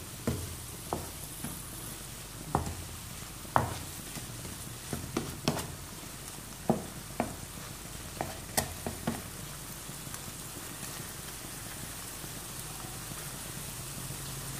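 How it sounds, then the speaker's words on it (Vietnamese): Snail meat stir-fried in a pan, heard as a faint, steady sizzle with scattered clinks and scrapes of stirring at irregular intervals. "Mình xào để cho cái phần thịt ốc này nó săn lại các bạn nhé."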